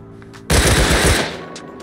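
An AK assault rifle in the console version of the video game Rust fires a sharp, rapid burst of close, loud shots lasting under a second, then fades into quieter background game sounds.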